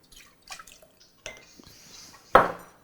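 Dry vermouth poured into a cocktail glass over cucumber slices, soft liquid trickles and drips with light clinks of glassware, ending in a sharper glass clink.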